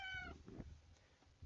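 A house cat gives one short, fairly loud meow right at the start, then fades into quiet room noise with faint shuffling.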